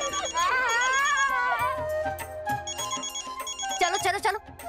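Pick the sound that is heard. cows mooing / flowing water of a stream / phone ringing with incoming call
phone ringing with incoming call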